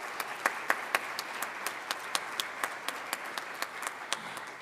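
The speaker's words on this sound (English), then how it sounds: "Y'all can clap for that." At an education honors celebration, an audience claps for top-ranked senior students, an even run of hand claps heard at a moderate distance within a broad wash of applause.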